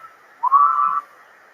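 Person whistling to imitate a train whistle, a single steady held tone of about half a second, clear and close, with no other sound around it.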